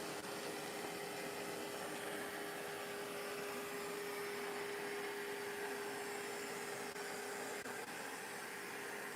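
A Narwal Freo Z Ultra robot vacuum hums steadily and faintly with a constant whine while working where carpet meets linoleum, no voices over it.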